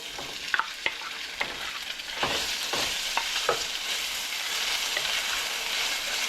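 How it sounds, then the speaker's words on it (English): Pork stir-frying in a teaspoon of hot oil over high heat gives a steady close sizzle with spatula scrapes clicking sharply early on, settling into continuous crackling frying. "Turn the heat high, and then a little bit of oil. It's about a teaspoon of oil, not too much. Yeah, let's put the pork in."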